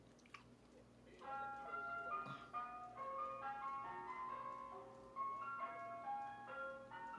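Melody from an ice cream truck playing a tinkling electronic jingle, faint and distant over a low vehicle hum, heard in the background without talk.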